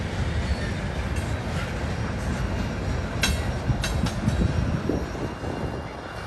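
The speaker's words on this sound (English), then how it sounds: "Pretty good rock train." A heavy rock-hauling freight train rumbles past steadily, a dense low roar with rattling cars and occasional brief metallic squeals, fairly close and continuous throughout.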